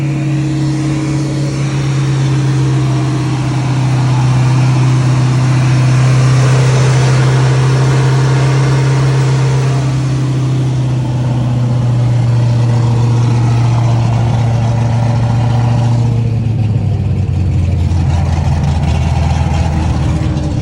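A drift car engine runs loudly and steadily up close at a drift event, a deep rumbling drone that shifts pitch slightly before dropping lower near the end.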